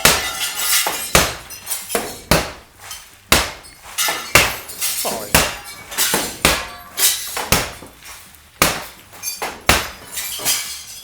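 Laminated window glass is struck again and again with a bat, each hit a sharp, loud crack with crunching glass, roughly one blow per second. A voice briefly speaks near the start.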